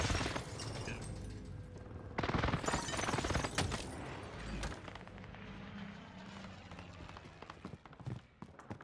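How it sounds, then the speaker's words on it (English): Heavy precision airstrike explosions in Call of Duty: Warzone, several loud booming blasts with rumbling debris, the strongest hitting near the start and around the two-second mark, followed by scattered crackling gunfire and thuds. "Enemy precision airstrike."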